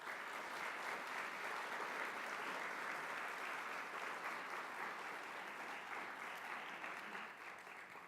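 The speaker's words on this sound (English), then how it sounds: "please join me in a round of applause for our co-hosts and our sponsors" Sustained audience applause fills a conference hall at a cyber competition employer panel event, steady and dense throughout before tapering slightly at the end.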